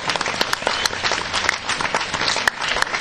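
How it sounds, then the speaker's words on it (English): Convention panel audience gives a round of applause for guests in Stormtrooper costumes, continuous dense clapping at steady loudness with a few sharp individual claps standing out. "round of applause again for Stormtroopers"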